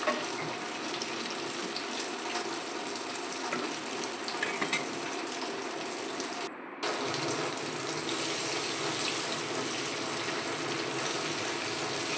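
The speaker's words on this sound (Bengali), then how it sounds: "এইভাবে পনিরগুলো লাল লাল করে ভেজে নিচ্ছি।" Paneer sizzles and crackles steadily in hot mustard oil, a dense continuous frying hiss with a brief dip partway through.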